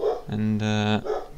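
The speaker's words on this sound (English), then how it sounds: "I apologize if you can hear my dog barking in the background." A pet dog barks and whines in short bursts, one sustained tonal yelp in the middle, sitting close beneath someone talking over a Hearthstone Battlegrounds game.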